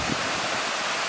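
Soft, even wash of a clear river flowing right in front of a campsite at Doshi no Mori, faint and continuous with no voices.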